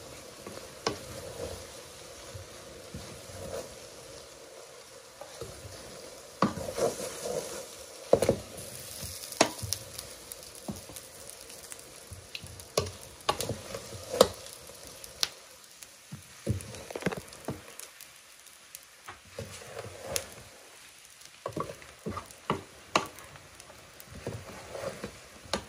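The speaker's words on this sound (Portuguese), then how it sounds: "Agora é só misturar aqui, bem misturado." Food being stirred and mixed in a pan, with soft scraping and sizzling textures and intermittent sharper clinks and taps of the utensil through the whole stretch, no talking.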